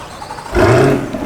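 A 2023 Corvette C8 Z06 engine fires up with a sudden loud rumble, holding a strong revving roar for about half a second before easing to a steady idle, with no talk over it.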